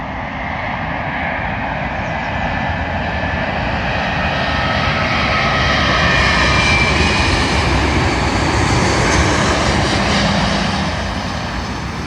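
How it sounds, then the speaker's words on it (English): An Air India Airbus A350-900 jet arriving from Delhi comes in to land at London Heathrow, its broad engine roar steady and loud throughout and swelling slightly as it passes nearest, with no talking. "Arriving in now is an Air India Airbus A350-900 from Delhi,"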